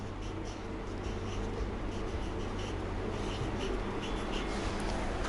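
Someone writes a word by hand on paper, making a soft, continuous scratching that stays faint and even throughout, with no one speaking.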